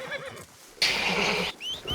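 A nervous horse lets out a loud, close whinny lasting under a second, with shuffling hooves and faint bird chirps around it.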